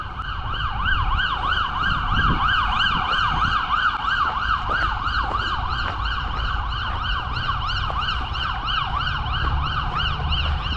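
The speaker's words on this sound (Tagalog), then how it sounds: "Bumbero." A fire truck siren in New Zealand wails in fast, repeating up-and-down sweeps, loud and steady over low traffic rumble for the whole stretch.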